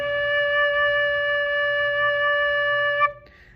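Recorder sounds a sustained low D with every hole covered except the bottom one, blown softly so it stays steady for about three seconds before the note cuts off. No one talks over it.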